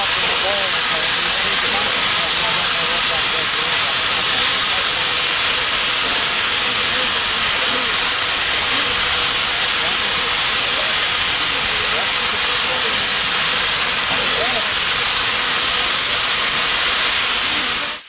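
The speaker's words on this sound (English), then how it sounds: "Even when idling, it's still fascinating to watch and listen to the sounds a steam locomotive makes" Pere Marquette 1225 steam locomotive idles on the Cadillac Limited fall color excursion, releasing a loud, unbroken hiss of steam that fills the whole stretch at constant strength up close.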